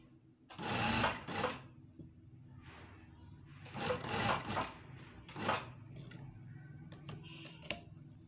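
A sewing machine stitches a shirt at home, its needle briefly catching; several loud, close bursts of rapid mechanical stitching come with short pauses between them.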